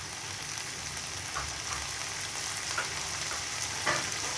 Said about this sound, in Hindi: अच्छी तरह आपने इसको मिक्स कर देना मसाले में